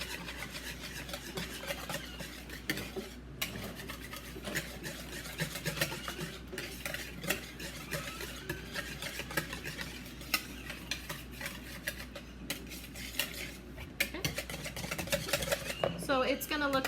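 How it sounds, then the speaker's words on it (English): A whisk beats pumpkin scone batter in a bowl, giving quick, rhythmic scraping and clinking against the bowl, close and fairly quiet, with a voice speaking now and then. "we are going to mix this real fast with our whisk"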